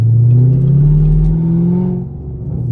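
A sixth-generation Chevrolet Camaro SS V8 revs and pulls away, its deep engine note loud and close and rising steadily in pitch as it accelerates, alone without talk.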